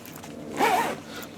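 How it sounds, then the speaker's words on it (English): A nylon zip on an Austrian M75 field jacket gives a single short, close zipping rasp lasting under a second. "it's got a nylon zip"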